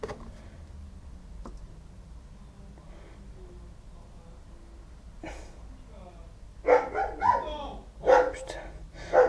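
A dog barks several times in short loud bursts near the end, after quieter stretches with faint speech and outdoor background noise.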